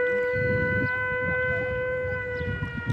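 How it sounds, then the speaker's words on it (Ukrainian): An air raid alert siren plays from a phone outdoors near the sea in Odesa, a steady sustained wail held evenly over a low background of ambient crowd and wind noise. "і в мене зараз грає повітряна тривога"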